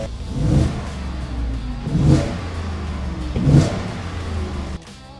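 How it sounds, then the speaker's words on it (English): A 2025 Ford F-150 XLT's 5.0-liter V8 revs three times in steady succession, each deep blip rising and falling over a rumbling idle, close and loud, before the engine drops off near the end. "That 5 liter V8 sounds wonderful."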